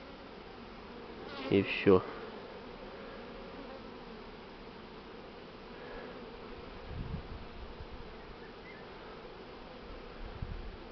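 A honeybee swarm being hived after its queen was removed gives a low, steady buzz throughout, with a couple of brief knocks and rustles near the start and someone speaking briefly.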